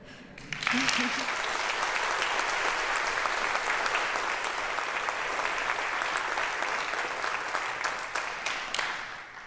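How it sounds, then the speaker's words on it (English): A conference audience at an opening ceremony applauds its young mathematics researchers with a sustained, even burst of many hands clapping, starting abruptly and holding steady for several seconds before tapering at the end. "let's have another round of applause for all of our young researchers"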